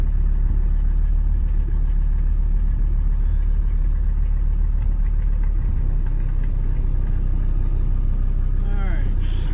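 A Mercedes 300D diesel with rebuilt injectors driving, its engine rumbling and droning steadily throughout from inside the car, with talk over the motor.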